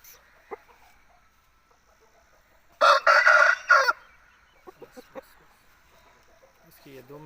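A rooster lets out a brief, loud crow amid otherwise quiet surroundings in Mandi Bahauddin, Pakistan, followed by a few scattered clucks and faint noises.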